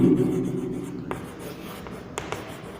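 Chalk or marker writes a sentence on a classroom board, light scratchy strokes and a couple of sharp taps following a brief hum at the start, with no speech.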